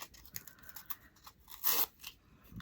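Cardboard strips are torn one after another as the top paper layer is peeled off cardboard carrot shapes, giving short crisp ripping and crinkling bursts, close and fairly quiet, with one louder tear near the middle.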